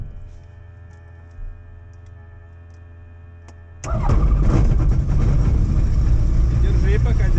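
A light propeller aircraft's engine starts up, a quiet low hum suddenly giving way to a loud, steady, close roar that holds to the end.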